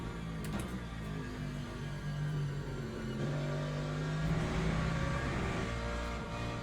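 An LMGT3 race car engine in Le Mans Ultimate drones steadily at low revs. It is faint and even, with a slight rise in pitch as the car pulls away, and no one speaks.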